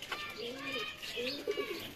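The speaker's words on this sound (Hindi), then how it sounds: "ये नई बट्टी वाले कबूतर है।" High-quality pigeons for sale in Lahore coo in low, rolling, repeated phrases, close by, with faint flutters and background voices mixed in.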